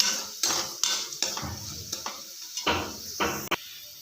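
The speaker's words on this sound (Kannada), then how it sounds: "ಕಡಲೆಬೇಳೆ ಎಣ್ಣೆಯಲ್ಲಿ ಸ್ವಲ್ಪ ಹುರಿ" Chana dal frying in oil for ridge gourd palya, stirred with a metal spoon: a steady sizzle broken by repeated scraping strokes and clinks against the pan, close up, no talking.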